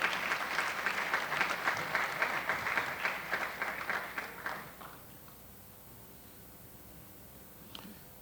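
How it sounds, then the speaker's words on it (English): An audience bursts into a big round of applause at a nonprofit human rights event, dense clapping that holds steady and then fades out to near silence, with a faint stray sound near the end. "Give them a big round of applause."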